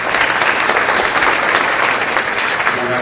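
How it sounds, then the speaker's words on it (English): A summit audience applauds a speaker, loud dense clapping filling the room steadily for a few seconds. "Let's give him a round of applause"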